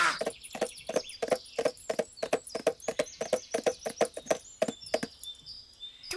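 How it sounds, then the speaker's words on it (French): Horse hooves clip-clop at a steady walking rhythm, a long run of crisp, evenly spaced strikes, close and clear with faint birdsong behind and no talking. "Qu'est-ce qu'il est beau, ton cheval!"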